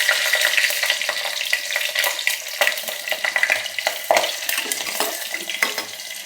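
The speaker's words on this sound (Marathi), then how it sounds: "थोडीशी मोहरी टाकायची आपल्याला, थोडेसे जिरे टाकायचे आणि आपला मसाला टाकून द्यायचा" Mustard seeds, cumin and masala crackle and fry in hot oil for a vegetable pulao, a steady loud sizzle dotted with sharp seed pops and a few stirring scrapes, with no voices.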